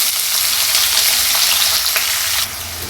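Finely chopped onions and whole spices sauté in hot oil for a prawn gravy, making a loud, dense sizzle with occasional stirring scrapes that drops in level near the end.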